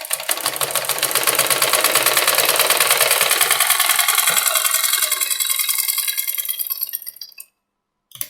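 A sewing machine stitches a blouse seam in a fast, even mechanical rattle that ramps up, runs steadily for several seconds close by, then winds down and stops, followed by a short click.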